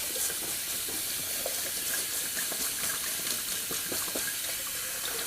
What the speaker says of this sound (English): let me just give that a quick little rinse